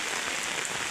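Heavy rain in Odisha falls in a dense, continuous hiss of drops hitting surfaces, loud and steady throughout the brief moment, with no talking.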